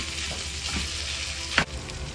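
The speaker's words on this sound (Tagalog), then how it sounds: "halu-haluin lang natin para kumapit yung ating mga ricado sa ating chicken." Chicken sisig frying in a pan with its seasonings, a steady close sizzle with a few scraping stirs and one sharp clank of a utensil against the pan near the end.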